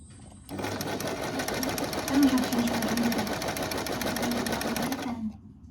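A sewing machine runs in one sustained, fast, even burst of stitching as it sews the pant legs of a formal dress, starting and stopping cleanly and sounding close and moderately loud.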